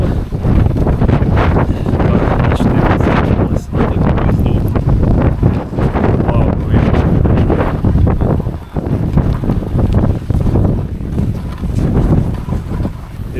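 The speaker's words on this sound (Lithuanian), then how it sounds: "Čia vėjas toks ant kalno, kad net nereikia čiuožti tokioj vietoj." Strong, continuous east wind on a mountain top near Mont Blanc, roaring and buffeting the microphone, loud and gusty throughout, with a brief voice barely audible beneath.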